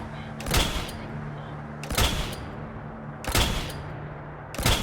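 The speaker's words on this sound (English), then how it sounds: "Is someone shooting you or am I shooting you?" Bursts of gunfire from the video game Fallout 4 in survival mode, four sharp shots spaced about a second and a half apart over a steady low hum.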